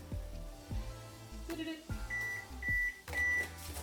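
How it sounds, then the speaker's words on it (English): A kitchen oven finishing its preheat to 300 degrees gives three evenly spaced electronic beeps, clear and close, over a low background. "That's my oven. She ready. She at 300."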